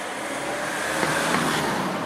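A Volkswagen Caddy van driving along, its steady road and engine noise a continuous even hum at moderate level with no talk.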